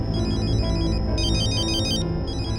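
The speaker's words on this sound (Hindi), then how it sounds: "रिंग तो बज रही है" A phone ringtone plays inside a house, a loud, steady electronic melody with repeating high tones, continuous and alone.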